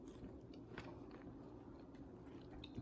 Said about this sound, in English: If you hear the chips in the background, we're sharing as a family.